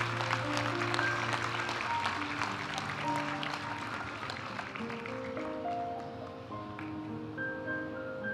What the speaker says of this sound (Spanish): Aplaudimos ahora a los graduados de la maestría en gestión de operaciones.